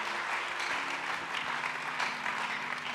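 A church congregation applauds in a continuous, dense wash of clapping, with a sustained tone from an organ or keyboard underneath.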